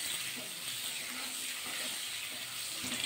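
Potatoes frying in hot oil in a pan, a soft, even sizzle that runs steadily throughout at a low level, with faint occasional clinks.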